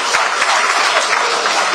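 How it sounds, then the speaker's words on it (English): Audience applause at a national opposition political summit, a dense, steady wash of many hands clapping throughout, loud and close with no speech over it. "I'm sure he deserves a better round of applause"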